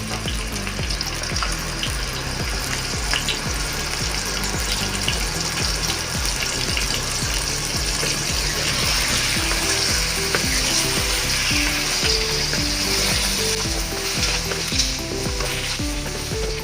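Beef and onions frying in a pan give a loud, steady sizzle with crackling, and occasional stirring or water sounds run under it throughout. No one talks.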